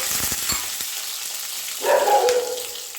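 Five-spice seeds, bay leaves and a dried red chilli tempering in hot oil, a brief crackle that swells into a steady sizzle partway through.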